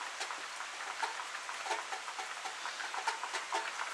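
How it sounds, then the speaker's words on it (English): Rain falling on the roof at a homestead, a steady hiss of drops with soft repeated patters and taps, fairly close and continuous with no voices. "if you hear the rain and listening to it come down on the roof"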